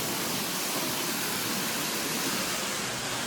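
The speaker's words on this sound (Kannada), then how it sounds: "ಗೈಸ್ ಇಲ್ಲಿ ನೋಡಿ ನೀರು ಹರಿತಾ ಇದೆ" Water flowing somewhere in Madikeri makes a soft, continuous hiss and rush, steady throughout without any talking.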